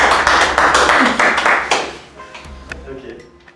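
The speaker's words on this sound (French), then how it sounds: "Donc encore une fois, on applaudit Cyril." A small group claps during a live reaction stream, brisk applause that fades out after a couple of seconds, followed by a few faint taps.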